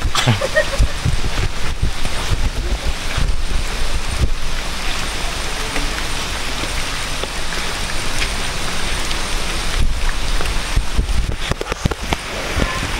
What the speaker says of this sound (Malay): Ni cuaca hujan eh